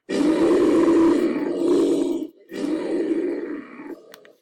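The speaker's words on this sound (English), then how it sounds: "if I'm looking for animal sounds, it's the animal stuff" A deep, rumbling animal roar swells, pauses briefly, then comes again as a second growling roar that fades out.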